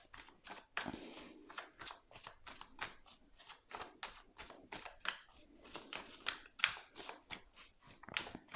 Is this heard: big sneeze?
no